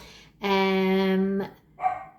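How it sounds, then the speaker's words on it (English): A single loud, drawn-out bark or howl from a nearby dog, followed by a shorter yelp a moment later. "my dog barking"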